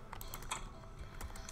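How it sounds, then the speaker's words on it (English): A computer keyboard clatters during a Terraria game, with a quick run of close, light key taps at an irregular rhythm over a faint background hum and no speech. "Press zero on your keyboard"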